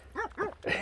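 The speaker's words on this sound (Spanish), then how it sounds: "la otra es una chihuahua que nada más que hace ladrar" Small chihuahua barking on a mountain walk, three quick sharp yaps in a row, close and fairly loud, with no talking over them.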